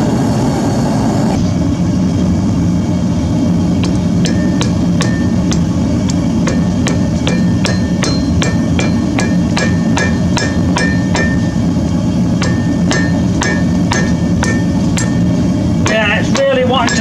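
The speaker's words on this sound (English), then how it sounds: "I've decided to go along just with a hammer on the anvil and try and fix that" Repeated sharp metallic hammer strikes on an anvil while forging chain Damascus steel that is crumbling, ringing out at a steady, uneven pace, many blows in a row over a low rumbling background.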